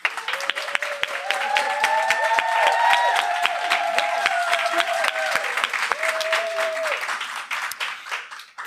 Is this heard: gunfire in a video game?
no